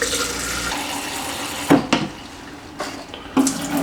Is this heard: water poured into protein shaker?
yes